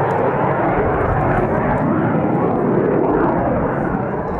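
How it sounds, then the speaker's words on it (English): White Knight, a twin-engine jet aircraft, roars past low over Mojave with a loud, steady broadband engine rush that holds for several seconds and fades slightly at the end. "then with a roar befitting a twin-engine jet, climbs like a homesick angel to enter the landing pattern"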